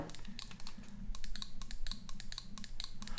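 Quick, sharp plastic clicks from the side buttons of a Glorious Model O gaming mouse, pressed hard in irregular bursts, close and fairly quiet.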